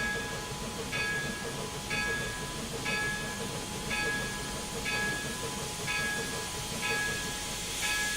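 A steam locomotive in a train simulator game rumbles steadily while a regular clicking beat repeats about once a second, with a faint steady tone above and a soft hiss running underneath.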